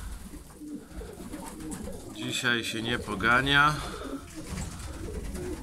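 Pigeons coo in a loft on a rainy day, a clear run of throaty calls swelling in the middle, near and loud, while someone talks over them.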